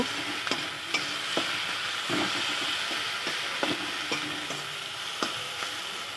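Fish, potatoes, salt and spices are stirred in a sizzling pan, with a steady fry hiss under repeated scrapes and taps of a spoon, close up and fairly quiet.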